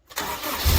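A Honda K20 engine swapped into a Mazda Miata cranks briefly, then catches and settles into a loud, steady run with a deep low rumble. No one speaks.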